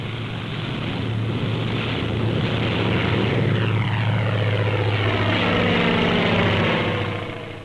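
A World War II propeller fighter plane roars continuously and loudly, its engine pitch sweeping as it dives past at about 470 miles per hour, with no voices.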